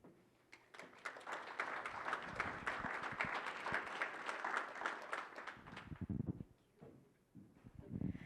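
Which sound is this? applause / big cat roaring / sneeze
applause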